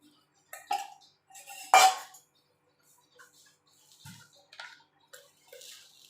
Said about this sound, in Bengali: এবার ময়দাটাকে ভালো করে দুধের সঙ্গে মিশিয়ে নেব।